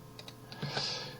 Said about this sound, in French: J'enfonce la touche CTRL du clavier pour ajouter à ma sélection celui-là.